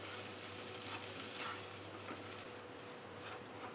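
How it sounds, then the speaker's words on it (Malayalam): Horse gram fry coated in chili powder being stirred in a pan, giving a steady close sizzle with faint scraping throughout and no voices. "നന്നായി ഒന്ന് ഇളക്കി കൊടുക്കാം."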